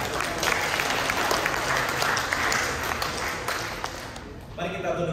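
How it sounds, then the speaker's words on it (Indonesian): A congregation applauds at a school Christmas service in a Baptist church in Jakarta, with steady, dense clapping for several seconds that fades before a voice begins speaking. "Kasih aplaus untuk Tuhan."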